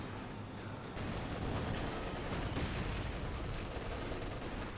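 Mortar shells and gunfire from the Company of Heroes 2 strategy game, a dense continuous battle rumble with steady crackling shots and no clear individual blasts.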